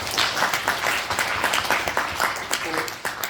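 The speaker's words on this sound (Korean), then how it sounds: "차렷 인사하면 박수 한번 쳐주시기 바랍니다." A church congregation claps after a group of middle and high school students bows at a Sunday afternoon service, a short burst of applause with some voices mixed in.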